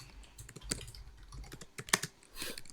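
Keys clatter on a computer keyboard in short, uneven bursts with a few sharper clicks, fairly close and moderately quiet, with a low background rumble and no talking.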